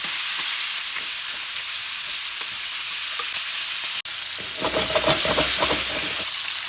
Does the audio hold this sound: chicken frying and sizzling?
yes